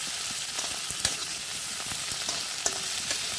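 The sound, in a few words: tomatoes added to a pan of browned onions, frying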